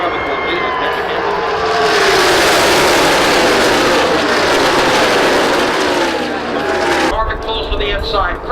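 A pack of NASCAR stock cars roars past at Talladega, with a loud sustained engine blare that builds and then drops off sharply as the field goes by, under a commentator's voice.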